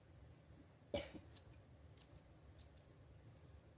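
Thinning shears snip through the hair of a closure wig in a quick series of crisp metallic clicks, close and quiet with short gaps between cuts.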